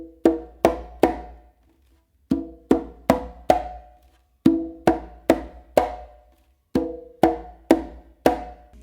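Conga tumbao played with close slaps, sharp dry hits in repeating groups of three and four with short pauses between phrases, close-miked and alone.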